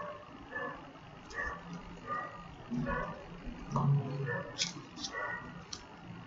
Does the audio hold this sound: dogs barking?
yes